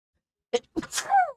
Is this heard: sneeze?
yes